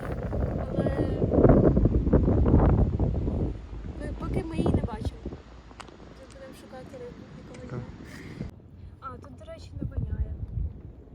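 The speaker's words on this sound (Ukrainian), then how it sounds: "О, так, вітер." Wind buffets the microphone in low, rumbling gusts, strongest at first, while people talk nearby.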